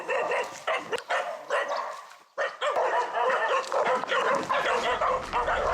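A pack of stray dogs on the street barks repeatedly, a run of loud, overlapping yaps and barks with a short pause partway through.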